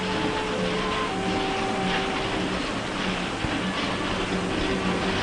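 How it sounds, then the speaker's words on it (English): A large newspaper printing press runs with a steady, loud mechanical roar and a faint hum, unbroken and alone throughout. "the pressman checks the first copies as the newspapers roll off the great press"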